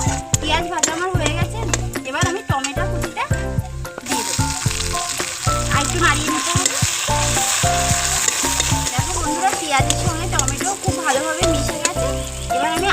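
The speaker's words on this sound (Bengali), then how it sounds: "এবার পেঁয়াজটা একটু লাল লাল করে ভেজে দেবো" Chopped onion fries in hot oil with strong, steady crackling sizzle, close and loud, with stirring scrapes and a voice talking over the cooking.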